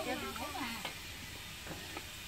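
Noodles crisp-frying in hot oil in a home kitchen, giving a steady close sizzle with a few stirring scrapes and brief bursts, while people talk over it.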